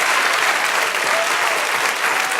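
A church congregation applauding the Lord during a Spanish-language sermon, a dense, steady wash of many hands clapping at once, loud and sustained throughout.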